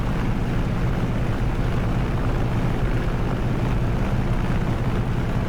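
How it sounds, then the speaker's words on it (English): FlyingIron Simulations aircraft with a Redhill engine, flying low with the canopy open near Gatwick: a steady, dense engine drone mixed with rushing wind, constant and loud with no pauses. "enjoy the wonderful noises from that excellent FlyingIron Simulations Redhill engine"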